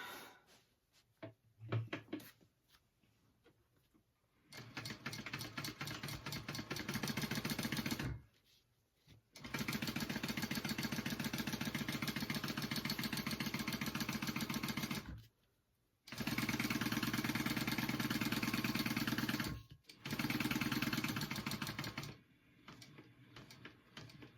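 Sewing machine stitching a large pocket onto a teddy-bear backpack, running in several long steady bursts of fast rhythmic needle clatter, stopping briefly between runs, close and loud with no talk.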